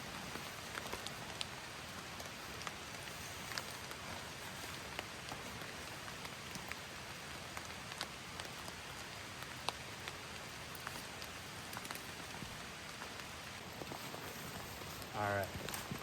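Rain falls steadily on a hike, a dense close patter of drops on surfaces throughout, with a short rustle near the end.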